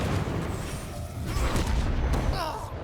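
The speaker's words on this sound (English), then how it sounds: "And there's so many explosions." Explosions in the video game V Rising rumble in a dense, continuous mix of booms and crackles, with scattered sharper bursts throughout and no clear speech.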